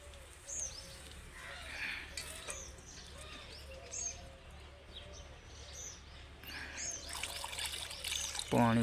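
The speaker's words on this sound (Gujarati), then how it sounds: "અને હવે પાણી વેડી દઈએ." Water being poured into a container set out for birds, a trickling pour close by with birds chirping in the background and a voice speaking at times.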